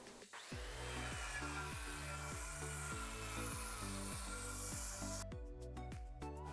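A saw makes the first cut into Baltic birch plywood for a hall tree, with a steady, rhythmic cutting drone that ends in a few sharp clicks.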